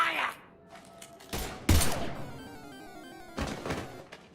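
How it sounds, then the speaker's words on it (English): Gunfire in the sci-fi game Mass Effect: a few sharp, separated shot bursts and impacts breaking through quieter stretches, with a voice speaking between them. "Now open fire!"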